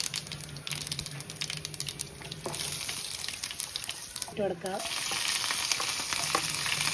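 Lentils crackle and sizzle in hot oil, a busy frying hiss with a metal utensil scraping and stirring, close by.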